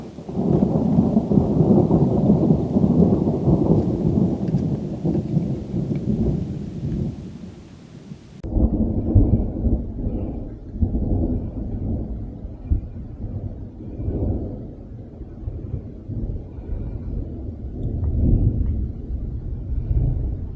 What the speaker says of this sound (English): you can hear the thunder